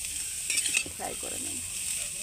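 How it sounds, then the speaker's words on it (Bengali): Grated carrots fry in a pan for gajar halwa, a steady moderate sizzle with brief clinks and a short scrape of a spoon midway, no talk. "এবার গাজরগুলিকে ভালো করে ফ্রাই করে নেব"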